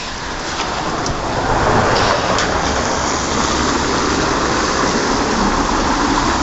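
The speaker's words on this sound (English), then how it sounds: "Another cobblestone street. Very loud to drive down." A car drives down a cobblestone street in the Altmarkt of Cottbus, Germany, giving a steady, loud broadband rumble of tyres and engine that fills the clip without talk.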